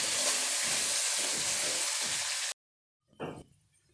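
Potato pieces seasoned with salt and turmeric fry in a hot pan with a steady, bright sizzle that cuts off abruptly, followed by a brief clink or scrape.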